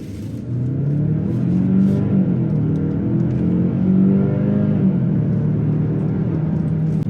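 A 2023 Genesis GV70 Sport Prestige accelerates hard in Sport Plus mode, its engine rumbling loud and steady from inside the cabin with rising harmonic tones as revs climb and shift, sustained for several seconds with no talking.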